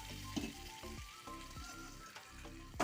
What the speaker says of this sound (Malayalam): ഇത് കടുക് താളിച്ചത് ഇതിലേക്ക് ഇട്ട് കൊടുക്കാം